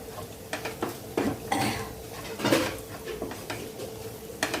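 Bitter gourd tossed with coriander-cumin powder and salt in a pan, giving a series of clattering scrapes and clinks of a spoon against metal in uneven bursts, close and moderately loud, with no talking.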